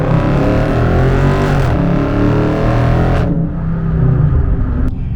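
A Dodge Scat Pack car accelerating hard, its loud engine roaring and rising in pitch through the gears before the roar drops away near the end.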